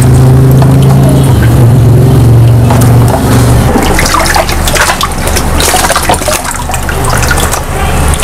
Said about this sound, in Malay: saya letak air sikit lah